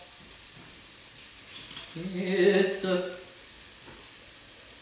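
Bacon sizzles and crackles in a hot pan, a soft continuous frying hiss with a brief spoken phrase in the middle.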